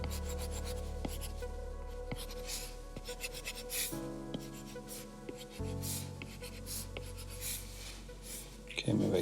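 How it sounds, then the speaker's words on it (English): Pencil drawing on paper, steady scratchy strokes heard close up over a constant low background hum, with no clear talking. "So let's go ahead and start to draw these."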